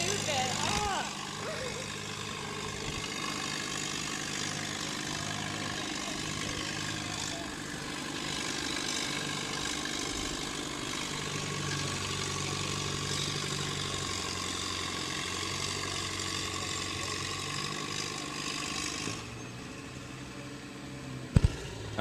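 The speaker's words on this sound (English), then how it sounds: "Wesley Neff coming down the track with his Massey 44." Massey 44 tractor working down the track at a barnyard tractor pull in the 4500 lb class, a steady mid-pitched engine drone with an announcer talking over it, cutting off near the end.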